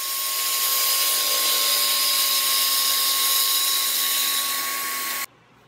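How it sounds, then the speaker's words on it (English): A track saw making crosscuts in sheet stock for a rolling band saw cart, a loud, steady high-pitched motor whine with a constant tone held for about five seconds before cutting off abruptly. "I'm just going to lay out the track saw and make quick work of the crosscuts with it"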